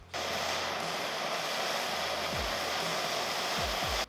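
Steady, loud roaring hiss of a heat gun or torch warming a stubborn seized bolt on a CR250 motorcycle part, running continuously for about four seconds and cutting off abruptly, with faint low hum underneath.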